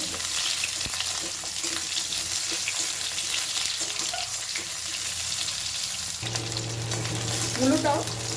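Sliced radish sizzles steadily in a pan over medium heat, stirred now and then for a winter vegetarian dish; the frying hiss runs continuously and close, with a low hum joining late.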